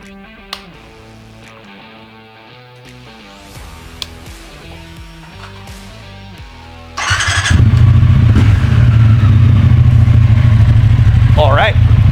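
A motorcycle fitted with a ThunderBox mod cranks over and catches, then settles into a loud, rough running idle close by, with a short squeal near the start of the run.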